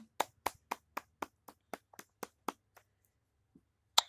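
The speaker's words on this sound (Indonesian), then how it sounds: "Tepuk tangan." Applause in a classroom after a student answers a teacher's question correctly: a small group claps in a steady rhythm of about a dozen sharp, distinct claps, then tapers off, ending with one loud single clap.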